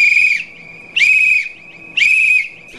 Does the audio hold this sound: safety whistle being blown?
yes